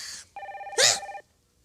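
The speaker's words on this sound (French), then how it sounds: "Le téléphone." A telephone ringing in a French Christmas comedy episode: a short electronic ring burst, a brief gap, then a sustained warbling ring with a sharp clatter in the middle, close and clear before falling silent.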